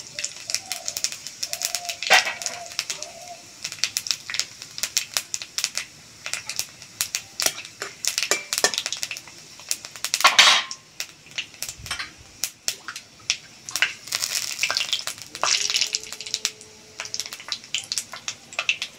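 Dried red chilli, bay leaves and five-spice seeds crackle and pop in hot mustard oil, a dense run of sharp sputters and spits close by, with brief tonal clinks and scrapes scattered through.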